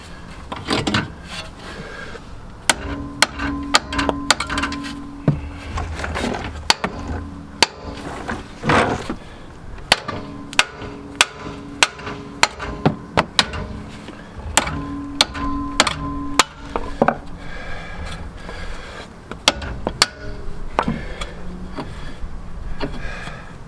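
A scrapped steering rod is hammered out of a Seat Leon mk3 subframe: sharp metallic hammer blows land irregularly, some in quick bursts, over a quiet workshop background, close and loud with no talking.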